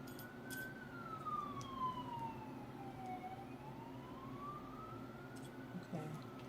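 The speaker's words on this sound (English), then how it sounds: "Oh, can y'all hear that? The sirens are coming." A wailing siren sweeps slowly down and back up in pitch, fairly distant, over a steady low background rumble.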